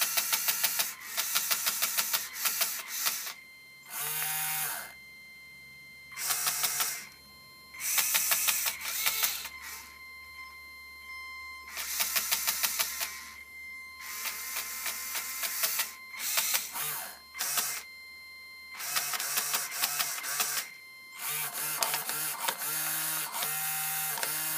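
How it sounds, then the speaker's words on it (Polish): Four small LEGO motors driven together through an SBrick controller, whirring in bursts that start and stop repeatedly, with a steady low hum underneath and no talk over it. "Jak widzicie, możemy sterować aż 4 silniki jednocześnie."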